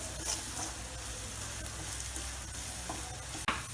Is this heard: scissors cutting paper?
no